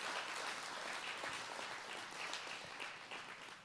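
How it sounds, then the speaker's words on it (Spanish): A church congregation applauding, dense sustained clapping from many hands filling the room at an even level throughout, with no voices over it. "No sé si pueden darle un aplauso al Señor ustedes."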